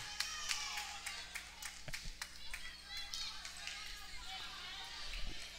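A loud basketball crowd fills Trinity Gymnasium during a women's college game, with steady claps, stomps and sharp court thuds under a constant roar of voices.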